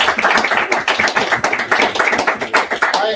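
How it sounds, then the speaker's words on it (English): Applause for a host at the Rumble House art auction: many hands clapping in sharp, rapid, close bursts with a pulsing rhythm, loud and sustained with almost no talk. "give Michael a round of applause"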